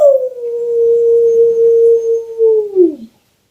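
A person's voice imitates wolves or wild dogs howling at the moon: one long, loud, close howl that holds steady before sliding down and fading out.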